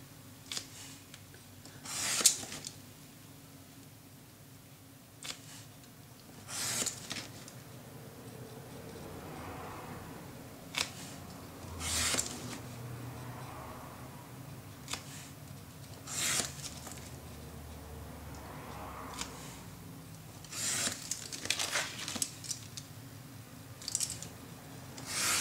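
Scissors cut through fabric for a baby buggy sewing project, giving intermittent close snips and rasping slides spread over the span with quiet gaps between cuts and no talk.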